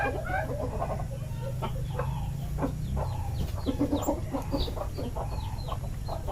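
Chicks of a native jungle-fowl breed chirp and peep in quick, repeated high calls over a steady low hum, with some clucking mixed in close by.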